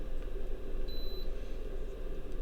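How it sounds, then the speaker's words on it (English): The buzzer on a DC-DC power supply under test gives a single thin electronic beep lasting about a third of a second, faint against a steady low hum of bench noise. "Is there a button to make this thing not beep anymore?"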